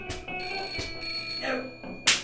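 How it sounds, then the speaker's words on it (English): An old-fashioned telephone bell rings indoors in short bright bursts, about four rings in quick succession, loud and close, with no talking. "Will either of you two please wake up and answer that telephone?"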